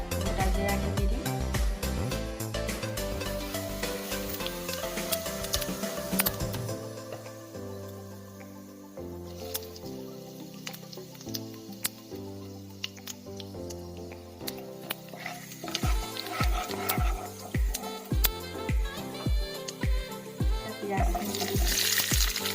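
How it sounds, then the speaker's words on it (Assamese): Whole cumin seeds crackle and sizzle in hot mustard oil with sharp popping bursts, continuing throughout under louder background music. "এতিয়া গোটা জিৰাখিনি দি দিম।"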